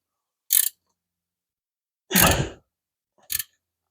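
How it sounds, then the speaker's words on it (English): A wrench working on the alternator of a hemi Plymouth Duster, producing three short metallic ratcheting bursts separated by silence, the middle one longest and fullest, close by. "we're done with this wrench"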